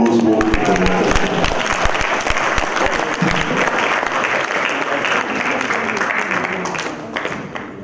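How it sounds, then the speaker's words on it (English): An audience applauds after a speech by the Nigerian Stock Exchange president at a NABF event, with dense, sustained clapping that holds steady for several seconds before tapering slightly at the end. "Let's give Mr. Ogunbanjo another warm applause"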